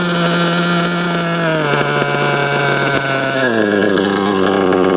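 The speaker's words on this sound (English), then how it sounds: "And now as the engine is leaning out, the idle is raising up." A JQ Products THERTR model engine idles during break-in, a loud continuous buzzing drone with a steady pitch that dips slightly partway through as the idle is adjusted.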